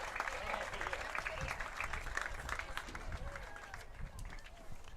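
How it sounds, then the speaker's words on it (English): A crowd at a senior all-star softball and baseball game applauds a player, moderate clapping that carries steadily through with a voice talking over it and some crowd noise. "Give her a round of applause."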